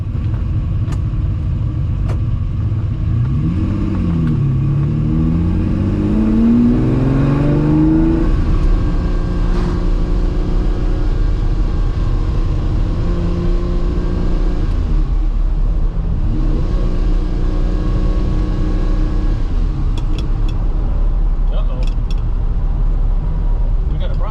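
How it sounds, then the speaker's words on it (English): A Ferrari 330 GTC is driven at speed, its engine a loud, continuous rumble that rises in pitch as it revs and shifts through gears, heard close and filling the whole stretch. "took a Ferrari 330 GTC out for a drive the other day"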